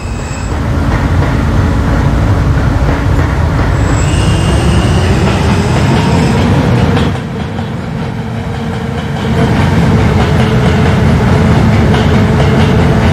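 An R160A subway train in Roblox runs loud and steady, a continuous rolling rumble with rail clatter and faint squeals, briefly easing before the roar builds again.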